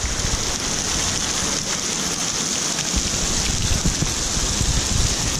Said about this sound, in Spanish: está cayendo granizo, está cayendo bastante piedra. Esperemos que no esté abollando el auto.